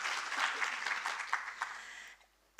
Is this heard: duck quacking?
no